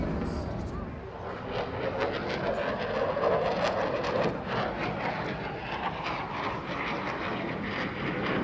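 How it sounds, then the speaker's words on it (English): A roaring RAF Typhoon fighter jet at an evening air display, its engine a broad continuous rumble swelling and easing, with a commentator talking over it. "An air superiority fighter has to be maneuverable and agile, and I think that's precisely what we've got here."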